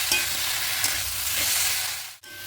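Vegetables such as taro, potato and eggplant, sautéed with masala and ginger garlic paste, make a dense steady sizzle with light stirring scrapes, loud and close, cutting out briefly near the end with no voices.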